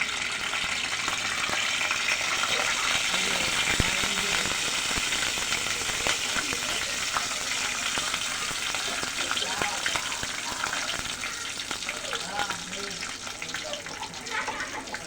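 Cumin seeds and mustard seeds sizzle steadily in hot oil for a lentil dal tempering, a dense continuous frying hiss with faint crackles throughout, close and fairly loud with no talking over it.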